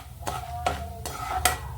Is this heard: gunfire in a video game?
no